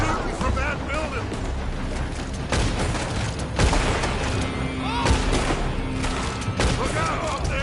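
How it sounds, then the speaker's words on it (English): Gunfire and explosions in the Western video game Red Dead Redemption: dense, continuous bursts of shots and booming blasts fill the scene at close range, with heavy low rumble and sharp repeated impacts and no talking. "They're shooting from that building!"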